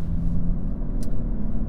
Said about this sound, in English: you get that lovely V12 bark at the back of the car